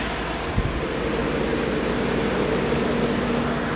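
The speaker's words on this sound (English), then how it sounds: "Nice new compressor in there." A newly installed A/C compressor on a 2015 Chevrolet Colorado runs with a steady, moderate mechanical hum and whir under the open hood, with one faint click near the start.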